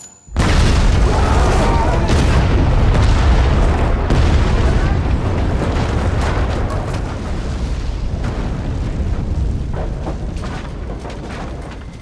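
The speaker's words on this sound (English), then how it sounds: "I mean, that's a good explosion that we have in that." A house blown up in a film explosion: a huge sudden boom followed by a long, loud, roaring rumble and debris that stays heavy for over ten seconds and fades only slightly.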